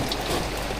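Rain falling on a fishing boat at sea, a steady faint hiss of drops on surfaces throughout, with no talk.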